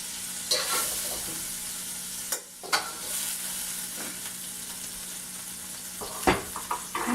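Shrimp and eggplant sizzle in oil in a pot, a steady close frying hiss with occasional clinks and scrapes of stirring; no voices.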